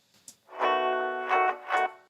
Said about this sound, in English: if we take a listen to this reverse reverb, you'll notice a swell right before the actual instrument starts